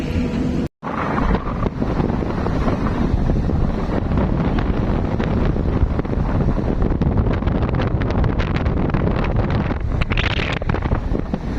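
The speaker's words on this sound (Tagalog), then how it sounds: "Grabe, lakas ng hangin!" Strong wind buffets the microphone in a loud, continuous rushing roar, broken only by one brief dropout near the start.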